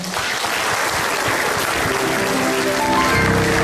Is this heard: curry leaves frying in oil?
no